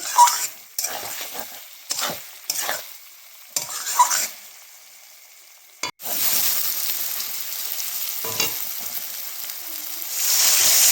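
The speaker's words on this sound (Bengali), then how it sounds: "আবার একটু নেড়ে চেড়ে নেব" Fish and potato curry stirred in a pan, a spoon scraping in bursts through the first half, then a steady close sizzle with occasional scrapes toward the end.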